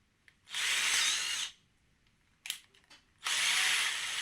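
A cordless power drill whirs at high speed in two bursts of about a second each, separated by a brief pause with small clicks and handling sounds, close to the listener.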